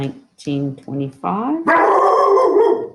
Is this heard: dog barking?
yes